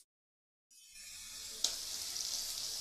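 Onions with garlic and ginger paste go into hot oil. After a moment of silence a loud sizzle starts, marked by a sharp crackle, and then a steady, close frying hiss carries on to the end.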